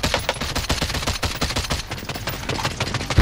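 Rapid automatic gunfire tears through a house's walls in a shooter game, a dense close burst of shots rattling continuously for a few seconds.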